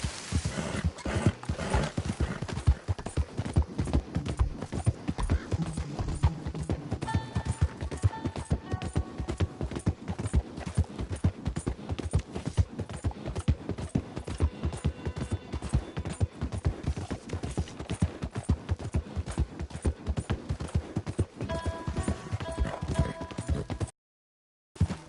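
A horse galloping in the video game Red Dead Redemption 2: rapid, steady hoofbeats drum close and loud throughout, with occasional whinnies and snorts, and a brief cut to silence near the end.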